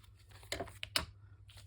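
Scissors snip a few times close by, cutting string or paper while wrapping a Pinterest-style gift tag, a couple of sharp crisp cuts in a quiet room.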